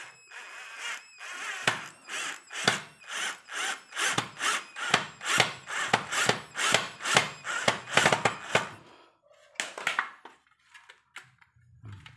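Bolting parts together during assembly, a repetitive ratcheting or driving sound in steady rhythmic pulses, close and moderately loud, ending with a few looser clicks and handling noises.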